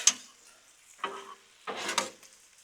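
Pepperoni slices sizzle on a Blackstone griddle in short soft hisses and light scraping bursts, quiet and close, with brief pauses between them.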